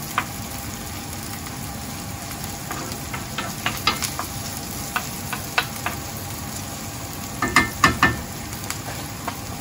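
Chopped garlic sautés in oil in a pan, a steady close sizzle broken by scattered sharp spatters and utensil scrapes, clustering more densely near the end, with no voices.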